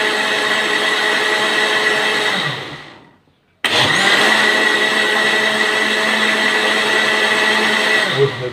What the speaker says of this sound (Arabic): وبنضربه عشان نكمل العصير المركز بتاعنا الجامد قوي قوي